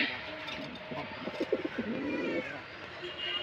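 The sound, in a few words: pigeons cooing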